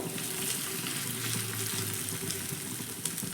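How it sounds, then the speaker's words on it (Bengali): Small flattened spicy pumpkin and lentil fritters fry in hot oil, giving a steady, close, continuous sizzle with faint crackles and no speech. "ছোট ছোট একটু হাতের সাহায্যে চাপটা করে করে এইভাবে আমি তেলের মধ্যে দিয়ে দিচ্ছি"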